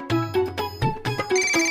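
A mobile phone rings nearby, its melodic ringtone repeating in a steady pattern of tones, loud and clear with no one speaking.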